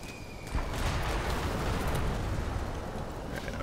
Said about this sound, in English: They're bombing everything.